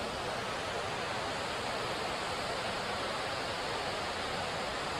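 Water pours over the Seemapuram check dam falls near Chennai in a constant, dense hiss-and-rush that stays steady and unbroken throughout, with no voices.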